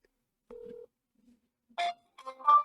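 Telephone keypad dialing tones: one steady beep followed after a pause by a few short, clipped tone bursts, clean and close against silence.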